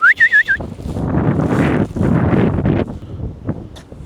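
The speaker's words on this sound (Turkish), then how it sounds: "Onlara böyle bir ıslık çalacağım." A quick run of short, rising whistles from a person calling to swans by a river, followed by gusty wind rumbling across the microphone.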